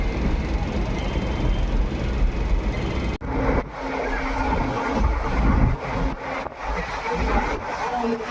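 Ride aboard a crowded passenger train bound for Tezpur, with a steady low rumble and rattle of the moving carriage throughout, a brief dropout midway, and voices talking over the noise.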